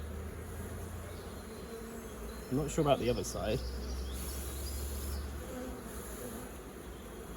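Steady, dense buzzing of many honeybees close by around an open hive, with a brief murmur of speech partway through.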